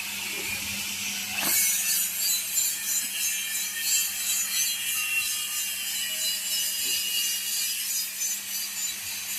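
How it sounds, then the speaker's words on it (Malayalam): A cutting tool grinds through a metal plate taken from a Mahindra Thar axle housing for an underbody guard, a continuous harsh high-pitched rasp with a sharp clank near the start, steady and close with no talk. "ആ പ്ലേറ്റ് പുള്ളി ഇനി കട്ട് ചെയ്യാൻ പോവാണ്."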